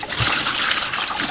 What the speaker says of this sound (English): Just pour this down the sink.